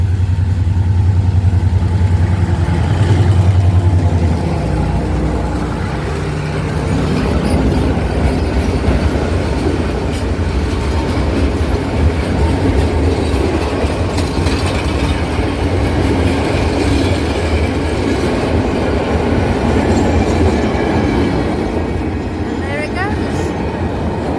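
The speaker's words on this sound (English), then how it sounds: "Hello train!" A train rumbles past close by in Sri Lanka with rhythmic wheel clatter and a faint metallic squeal toward the end, loud and continuous throughout.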